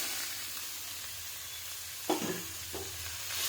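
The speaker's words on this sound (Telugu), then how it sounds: "ఇలా మొటిక్కాయలను పచ్చివాసన పోయేంత వరకు వేయించుకుందాం" Motikaya fry in a pan with ginger garlic paste, a steady close sizzle broken by a couple of brief stirring scrapes, with no voices.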